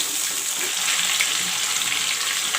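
Drumstick and potato frying in a pan, giving a steady, continuous close-up sizzle with a faint watery crackle and no talking.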